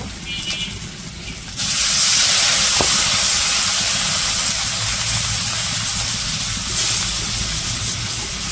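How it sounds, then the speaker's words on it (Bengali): Onion and green chili frying in a pan for a village curry give a loud, steady hiss and sizzle that starts abruptly and then holds close and constant. "তরকারি রান্না করার জন্য পেঁয়াজ কাঁচামরিচ ভাজা নিছে"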